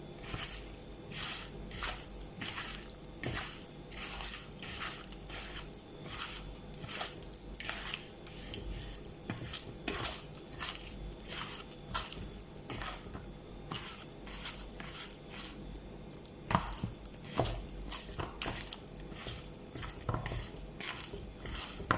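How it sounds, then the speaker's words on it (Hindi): Bare hands knead spices and crushed onion together for mutton pasanday, making close, steady wet squishing and squelching with a rhythmic pulse and soft slaps. "अब इन मसालों को हाथ से अच्छे से मिक्स करना है"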